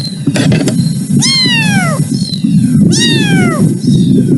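Kittens at a humane society shelter give loud, close meows, two long drawn-out cries with softer squeaks before and between them.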